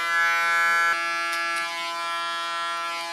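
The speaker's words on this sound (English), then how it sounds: "With my aluminium foil on the clipper, it works a lot better than with a black one." An electric hair clipper fitted with aluminium foil buzzes steadily while cutting short hair, a loud constant tonal drone with a brief click partway through.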